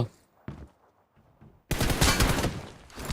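Shooter video game gunfire: a few faint shots early on, then a dense, loud burst of rapid automatic fire that carries through to the end.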